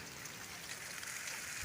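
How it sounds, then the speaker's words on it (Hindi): A soft, even hiss of falling rain, fairly faint and constant, with no voices over it. "हल्की हल्की अंधेरी आई तो नाल ही बारिश शुरू हो गई।"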